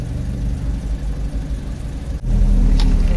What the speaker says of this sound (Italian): Spero che non mi si spenga la macchina.